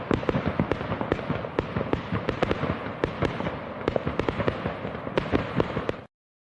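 Fireworks sound effect played as a livestream alert: a dense, continuous barrage of sharp crackling pops and bursts, loud and close, running for about six seconds before cutting off abruptly.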